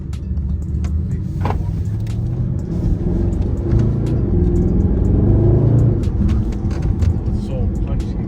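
Mercedes SLS AMG engine rumbling and revving up close, a deep throaty drone that swells louder through the middle before easing slightly, with people talking over it.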